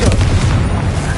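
Confringo fire spell blasts in the video game Hogwarts Legacy: dense, loud booming explosions that rumble continuously through the short moment, with shouted voices mixed in.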